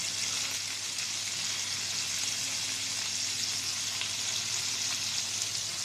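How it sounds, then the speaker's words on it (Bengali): Fish frying in a pan of oil, a dense, unbroken sizzle and crackle held at an even, fairly loud level throughout, close by with no voices. "বন্ধুরা মাছগুলো ভাজা হয়ে গেছে"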